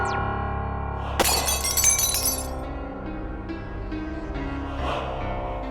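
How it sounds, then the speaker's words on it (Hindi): A glass statue shatters in a sudden sharp crash with a spray of tinkling fragments that fade over a couple of seconds, set against a sustained dramatic musical backdrop. "कांच का पुतला टूटा"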